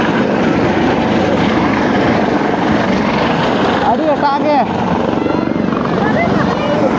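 A helicopter filming over a crowded outdoor Odisha event featuring Odia actor Anubhav Mohanty, a loud constant rotor drone with people talking over it.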